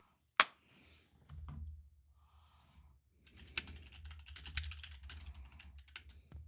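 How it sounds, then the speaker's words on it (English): Fast, furious typing clatters on a computer keyboard, a sharp click opening a dense run of quick, uneven keystrokes heard faintly from across the room. "You hear Frank just furiously typing over there."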